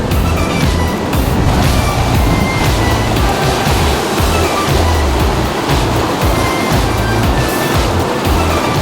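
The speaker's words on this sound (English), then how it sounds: "Even the falls, you can see there's a lot of noise out there, and there's a lot of crashing in the water" The Manavgat waterfall after rain, its water crashing in a dense, steady roar that fills the scene, loud and continuous with no talk.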